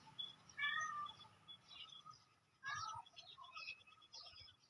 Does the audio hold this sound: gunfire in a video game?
no